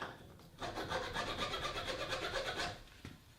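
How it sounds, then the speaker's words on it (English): A four-in-hand hand file rasps a burr off a wooden vise jaw in steady rapid back-and-forth strokes for about two seconds, close and fairly loud, with no speech. "I have my handy dandy 4-in-hand file. I'll just file that right off."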